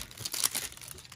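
Crinkling of a 1994 Pacific Crown Collection baseball card pack wrapper: a quick run of crisp, rustling crackles up close, lasting about a second with no talking.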